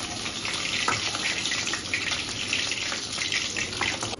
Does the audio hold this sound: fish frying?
yes